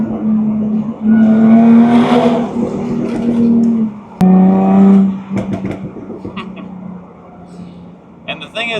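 A Jaguar F-Type S sports car engine revs hard up close, with two loud rising blips around a deep burbling idle, then settling into a lower rumble with a few sharp crackles near the end.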